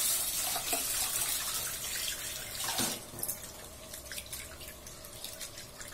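Dal (lentils) being rinsed under a running kitchen tap, a steady broadband splash of water hitting grains and a bowl throughout, close and fairly loud with small surges and drips, no talking.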